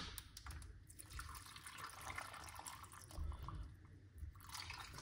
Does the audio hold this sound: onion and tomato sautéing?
no